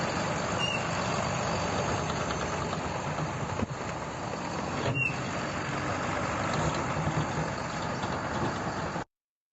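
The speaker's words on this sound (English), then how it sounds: "a Russian using a John Deere tractor to pull away an APC" A John Deere tractor pulling away an armored personnel carrier in Ukraine runs with a steady, moderately loud diesel drone and rumble, with a couple of brief squeaks, before cutting off abruptly.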